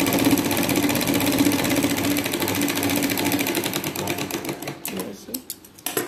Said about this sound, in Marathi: इथे सरळ शिलाई मारून घ्यायची